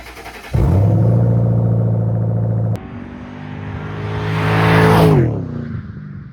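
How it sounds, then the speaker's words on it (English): A Ford Mustang GT V8 with a Flowmaster axle-back exhaust idles with a deep burble, then revs up into a throaty, rising exhaust roar before settling back down; no voices. "the first mod I did for this car was actually a Flowmaster Axleback exhaust."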